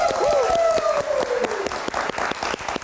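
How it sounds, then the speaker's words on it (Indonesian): Studio audience clapping on a live late-night TV show, steady applause with a tonal music or effects sweep gliding beneath it at the start. "boleh tepuk tangannya"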